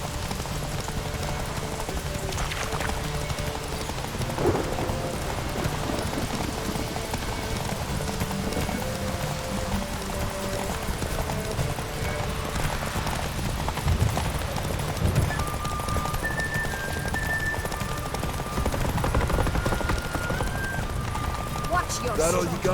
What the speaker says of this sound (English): Grab a horse.